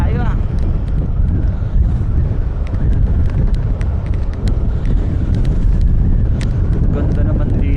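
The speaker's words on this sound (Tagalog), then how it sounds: "Lakas ng hangin oh, tinutulak tayo ah." Strong wind buffets an Easy Ride 150 motorcycle on a rural ride from Imus to Indang, a constant loud roaring rush over the rider's mic that never lets up throughout.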